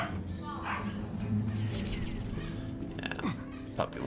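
Dog barking and whimpering in Baldur's Gate 3, short yips and a whine over a busy game soundscape with faint background voices.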